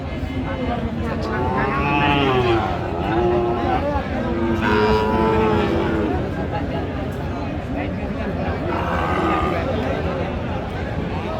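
Cattle low and moo now and then at the busy Aftabganj livestock market in Bangladesh selling Sahiwal bulls and calves, their calls rising over a steady crowd murmur while people talk throughout.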